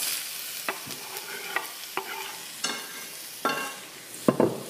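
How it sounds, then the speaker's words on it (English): Onions fry in a little extra virgin olive oil for a Tuscan soup, with a soft steady sizzle, occasional close stirring knocks and scrapes against the pan, and no one talking. "A little bit of extra virgin olive oil in there, just so that we can get going. And then in with our onions."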